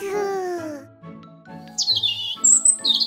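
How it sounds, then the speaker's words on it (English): A bird sings a few bright, high chirps and whistled notes, clear and close, following a brief low humming tone at the start. "Those sounds you heard are songs, not words. Singing sweetly, it's a bird."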